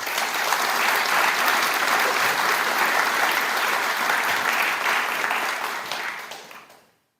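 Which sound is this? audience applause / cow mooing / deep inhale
audience applause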